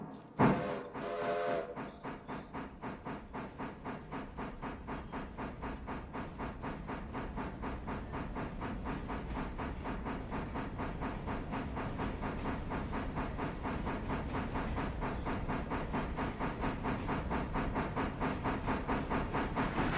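A heavy video-game locomotive pushing a train on a railroad bridge build chuffs in a steady, quickening rhythm, opening with a brief whistle and building into a continuous mechanical rumble.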